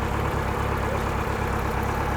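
A Suncruiser pontoon boat's outboard motor idles steadily with a low, even mechanical throb, close and continuous with no voices.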